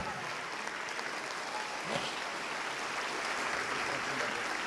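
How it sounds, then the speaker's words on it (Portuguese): A church congregation claps together in a large hall, a soft, steady wash of applause heard from some distance, with no clear voices over it. "Vamos aplaudir mais, igreja."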